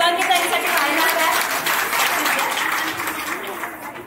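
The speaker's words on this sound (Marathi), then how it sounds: "एकदा जोरात टाळ्या शुभांगी ताईंसाठी पाहणार का?" Audience applause for Shubhangi at a Haldi Kunku ceremony, a dense, steady wash of many hands clapping for about four seconds, close and loud, tapering slightly toward the end.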